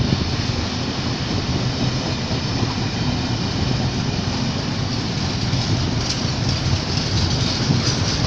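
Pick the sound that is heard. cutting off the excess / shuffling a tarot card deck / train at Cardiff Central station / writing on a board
train at Cardiff Central station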